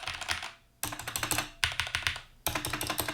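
Xtrfy K4 gaming keyboard, close up: a few regular key presses, then repeated strikes of a clanky, rattling space bar in quick bursts of clacks, loud and alone with no talk.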